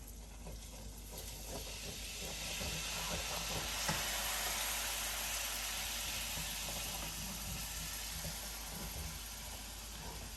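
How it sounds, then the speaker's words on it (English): Beef broth poured a little at a time into melted butter in a pan, giving a steady soft sizzle and hiss that swells and holds, fairly quiet with no talk. "And now we're gonna add the beef broth a little bit at a time."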